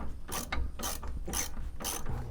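A ratchet wrench loosens a stubborn bolt on a vehicle, four close, rhythmic bursts of rapid clicking separated by short pauses.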